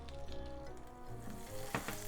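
Butter sizzles softly in a frying pan as it melts, a faint continuous crackle with a couple of brief louder spits near the end, no voices.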